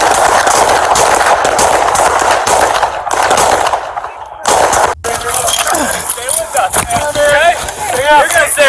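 Gunshots ring out at a police station in a rapid, loud burst over shouting voices, then break off into a short lull before frantic yelling and radio chatter continue.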